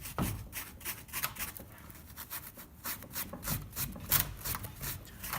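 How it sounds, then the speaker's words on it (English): Abrasive pad scrubbing light rust off a Dodge Nitro brake caliper bracket, a close, steady rasping rub in quick repeated strokes with no talking. "so we just Scotch-Brite them a little bit"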